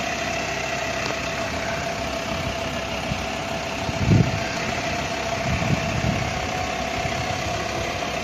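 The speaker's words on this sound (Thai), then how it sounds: "รถตู้ เครื่องดีเซลนะครับ" A 2007 Volkswagen Caravelle van with a 2.5-litre diesel engine and automatic gearbox idles nearby, a steady low rumble with a faint knocking texture and a couple of brief swells.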